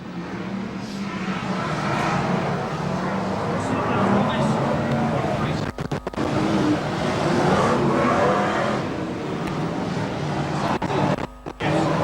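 Brisca F1 stock cars, seventeen of them, roaring away from the green flag at a 1994 race start, a loud, sustained engine din under a race commentator's voice.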